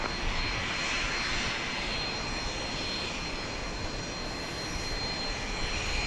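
A Southwest jet airliner takes off from Dallas Love Field at night, its engines roaring as a loud, steady, broadband rumble that holds evenly for several seconds with no voices.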